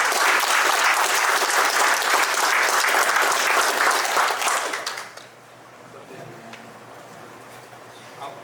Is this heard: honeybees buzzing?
no